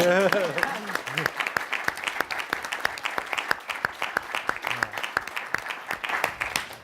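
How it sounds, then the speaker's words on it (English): An audience in a large, quiet hall gives a light, scattered round of clapping for a speaker at a panel discussion on millennials and values, with steady claps throughout and a brief voice at the start. "Let's applaud after each speaker, okay?"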